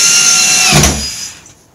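A power drill whines loudly at close range as it drives into piano hinges on cargo trailer bed boxes, then spins down and stops after about a second and a half.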